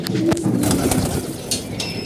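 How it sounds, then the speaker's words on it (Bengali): Pigeons coo softly nearby in low, throaty warbles, with a brief rustle or flutter of wings and no people speaking. "আজকে সকালে আমাদের কবুতরগুলো মার্শাল্লাহ অনেক ভালো উঠছে"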